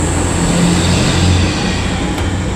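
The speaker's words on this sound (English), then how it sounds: "Loud truck." A loud, heavy truck rolls past close by on a city street, its deep engine rumble and broadband road roar holding steady throughout with no voices.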